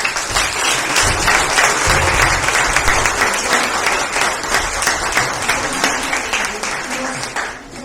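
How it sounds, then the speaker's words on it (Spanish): An audience at a book presentation and discussion event claps in sustained, loud applause that fills the room evenly for several seconds before tapering off at the end. "yo quiero un aplauso para Don Mateo."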